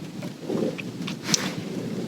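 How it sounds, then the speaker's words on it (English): Rain begins falling at an outdoor observation tower in Estonia, a steady soft hiss with gusts of wind noise across the microphone and a brief louder patter partway through. "And that was exactly when it started to rain"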